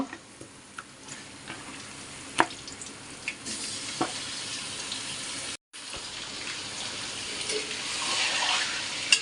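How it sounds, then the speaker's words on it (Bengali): Chicken frying with browned onions in a pan, a low continuous sizzle dotted with sharp pops and utensil clicks, briefly cutting out before the hiss swells again. "এবার পেঁয়াজের সাথে গোস্তটাও ভাজতে হবে।"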